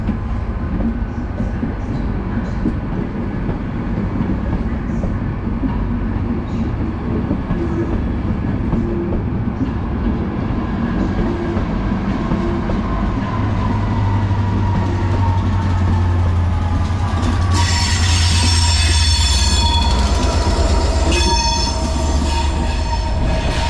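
Locomotive 67017 hauls a train from Crewe to East Usk Junction past the listener, a loud continuous rumble of wheels and wagons that swells as it nears, with high wheel squeal and a horn-like tone rising near the end.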